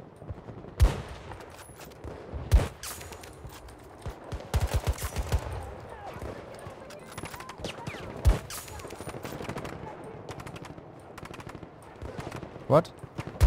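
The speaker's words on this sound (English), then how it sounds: "I was getting shot at from over there somewhere." Video game gunfire: scattered single shots and short bursts popping at varied distances, some sharp and close, with quieter background activity between.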